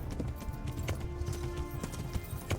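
Horse hooves clip-clop steadily at a galloping pace in the medieval video game Kingdom Come: Deliverance, a near, continuous rhythm over rumbling low background noise.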